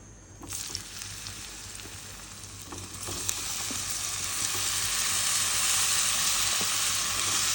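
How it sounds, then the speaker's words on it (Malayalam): Ripe plantain frying in ghee in a pan, a soft sizzle that swells into a steady, louder bubbling hiss after a few seconds. "പഴം നെയ്യിൽ വറുക്കാൻ വേണ്ടിയിട്ട് നെയ്യ് കുറവാണ് ഉള്ള നെയ്യ് ഒഴിച്ചു കൊടുക്കും"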